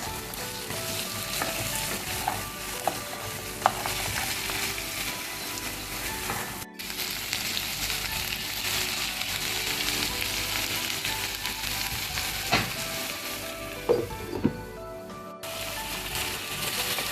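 Crab pieces fry in a hot pan for a chilli pepper crab, giving a steady, close sizzle throughout with occasional clinks and stirring scrapes.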